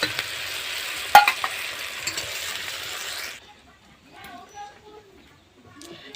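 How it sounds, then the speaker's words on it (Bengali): Onions stirred and frying in hot oil, a steady sizzle with a sharp metallic clink near the start, then cutting off abruptly into quiet room sound with faint movement. "পেঁয়াজটা আমার ভাজানো হয়ে গেছে। এবার আমি তুলে নেব তেল থেকে ছোটো ছোটো।"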